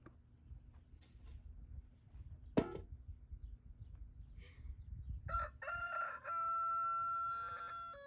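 A rooster crows loudly and a nearby chicken clucks on a rural homestead, over a low background rumble with a sharp knock partway through.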